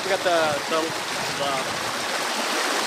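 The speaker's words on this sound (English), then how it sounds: "the water flowing. I guess it's called the water flowing" Water flows steadily over rocks in an outdoor stream, a continuous close rushing hiss that runs the whole time beneath a voice.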